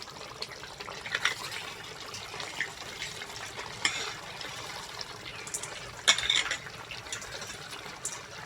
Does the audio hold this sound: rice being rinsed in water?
yes